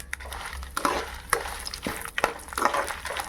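Dried red chillies fry in oil in a pan while being stirred, giving a close, scratchy sizzle broken by repeated sharp scrapes and clinks of a utensil against the pan.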